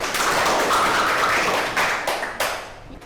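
Children in a classroom clap together, a loud burst of close, fast clapping that thins out into a few scattered final claps over about three seconds.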